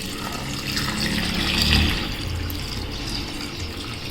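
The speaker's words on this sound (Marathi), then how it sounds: "मी ते स्वच्छ पाणी घेतले आणि त्यामध्ये ओतणार आहे." Clean drinking water pours steadily into a container of soaked rice during papad-batter preparation, a continuous close splashing flow that swells briefly in the middle before settling back.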